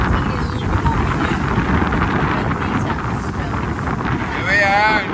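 Steady wind buffeting the microphone aboard a sailboat at sea in about 12 to 13 knots, a dense continuous rushing roar, close and loud, with a voice briefly rising near the end.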